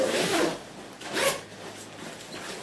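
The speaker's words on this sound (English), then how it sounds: "it's also got a double zipper, so a zipper at the bottom here and a zipper at the top here" Double zipper on a Shein garment being pulled open, two separate rasping zip strokes, close and fairly loud, with no talking.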